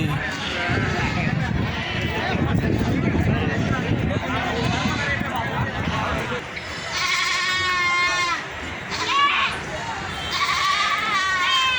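Goats and sheep bleat repeatedly amid a noisy crowd of people talking at a large livestock market in Karimnagar district, with high wavering calls rising above the chatter in the second half.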